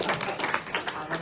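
Faint, scattered audience applause from a conference crowd, a loose patter of claps mixed with a voice talking over it.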